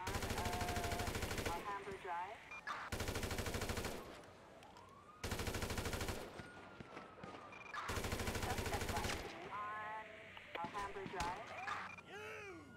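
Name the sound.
gunfire in police shootout, video game GTA 5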